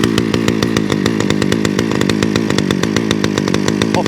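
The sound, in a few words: Titan engine running on mid choke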